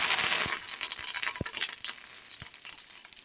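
Curry leaves hitting hot frying oil, a steady crackling sizzle with sharp pops and spits, close and moderately loud, fading slightly as it settles, no talk over it.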